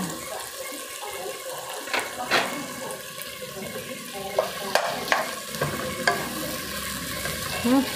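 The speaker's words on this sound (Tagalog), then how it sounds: "gigisa-gisa muna natin yung ating giniling" Ground pork sautés in oil in a pan with a steady sizzle, broken by several distinct scrapes and stirs of a utensil against the pan.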